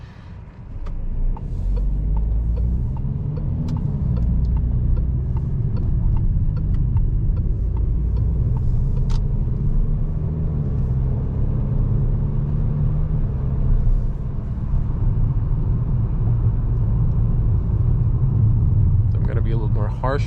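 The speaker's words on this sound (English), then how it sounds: "if we speed up, there's going to be more wind noise, especially at 150" Steady broadband wind and road rush inside a 2021 Peugeot 5008 cruising at 150 km/h at night, a constant loud roar with low engine rumble throughout, and a voice talking over it.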